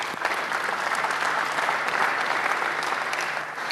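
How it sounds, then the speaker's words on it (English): A workshop audience applauds steadily and loudly for about four seconds, a dense, even wash of many hands clapping with no voices above it. "Give yourselves a round of applause."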